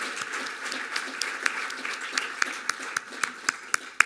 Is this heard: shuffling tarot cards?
no